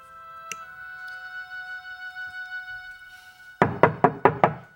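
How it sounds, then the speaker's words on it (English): Five quick, loud knocks on a door in a 2003 daytime soap scene land in a firm, even rhythm near the end, after a quiet stretch with a sustained tonal hum. "It's your wake-up knock."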